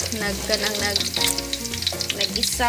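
Garlic sizzles steadily in a hot pan while making creamy chicken pastel, a continuous close frying hiss with tonal background music running underneath.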